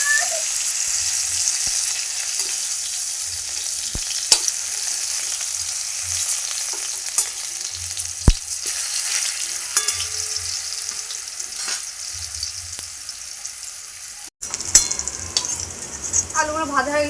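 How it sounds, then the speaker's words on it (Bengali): Potatoes seasoned with turmeric and salt fry in hot oil in a home kitchen pan for chicken biryani, a steady close hiss and sizzle with occasional scrapes and clinks of a stirring utensil, and a faint voice near the end. "ওটা আমি আলুগুলো ভেজে নেবো"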